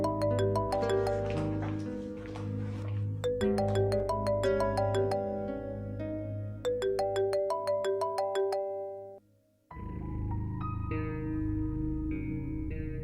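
A melodic phone ringtone plays loudly and steadily, with a short pause before the tune resumes in a different pattern.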